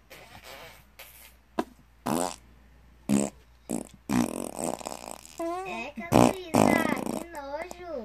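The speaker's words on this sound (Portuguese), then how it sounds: "Quem peidou? Fui eu." Several short fart noises at night, some loud and sputtering, mixed in among people talking, laughing and exclaiming in Portuguese.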